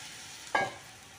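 Water is poured into a hot pan of mixed vegetables, giving one short, sharp hiss that fades within a fraction of a second. It is close and moderately loud against a quiet background.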